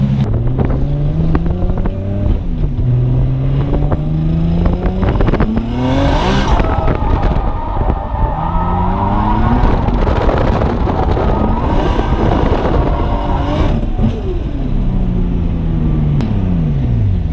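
A loud 550 wheel-horsepower Nissan Skyline engine revs repeatedly while drifting, pitch climbing and dropping through gear changes, with a roaring sustained stretch in the middle and wind noise throughout.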